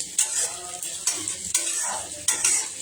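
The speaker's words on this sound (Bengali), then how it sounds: "লঙ্কাগুলো তেলে দিয়ে দিচ্ছি, সব ভালো করে" Green chillies sizzle in hot oil, a steady frying hiss broken by several sharp scraping stirs of a spoon against the pan, close and fairly loud with no talking.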